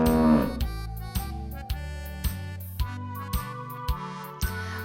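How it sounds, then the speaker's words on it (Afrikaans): A cow moos loudly and long at the start, followed by a steady rhythm of sharp repeated musical beats, loud and close, with no voices. "Loei mevrou Koei hard."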